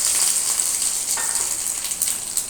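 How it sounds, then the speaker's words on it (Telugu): Tempering spices sizzle and crackle in hot oil in a kadai, a steady bright frying hiss that runs continuously and close, with no voices over it. "పోపు దినుసులు వేసేసి"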